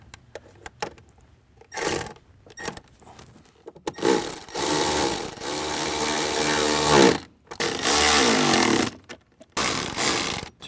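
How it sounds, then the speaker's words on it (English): A power driver whirring in short and longer bursts as speaker mounting screws are tightened into a soft plastic bezel in a Ford Bronco, close and loud, separated by brief quiet gaps. "Now we can go ahead and tighten them all down."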